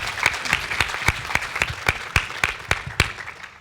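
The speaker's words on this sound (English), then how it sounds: "Round of applause for these ladies" A small audience at a live panel claps in unison with a steady, even rhythm of sharp beats about four per second, moderately loud and close.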